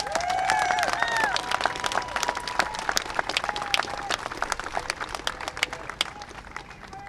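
An outdoor crowd applauds and cheers at a mayor's downtown event, dense sustained clapping with a few whoops and whistles over it, fairly loud and spread wide.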